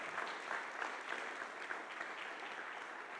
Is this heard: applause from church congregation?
yes